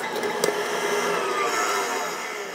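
Stand mixer with a paddle beater working butter in a raised bowl, a steady whirring motor hum with a brief clack near the start, close and continuous with no talk.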